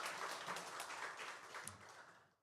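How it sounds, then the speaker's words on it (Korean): A church congregation applauds during a Sunday service, a faint, distant wash of clapping that fades away toward the end. "우리 하나님께 영광의 박수 올려드리겠습니다."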